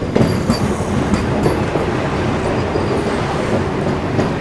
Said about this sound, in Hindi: सामने से आ रही है दोस्तों सिकंदराबाद नागपुर वंदे भारत एक्सप्रेस।